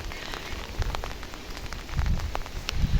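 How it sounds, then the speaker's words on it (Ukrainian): Steady rain patters on a surface, with scattered heavier drops and occasional low thuds, no voices. "Сьогодні знов дощик."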